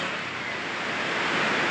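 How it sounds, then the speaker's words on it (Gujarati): Water gushes through ten released dam gates, a loud, steady roar of broadband rushing noise holding constant throughout with no voices. "પાણી ભૂકા કાઢી નાખે એવું પાણી"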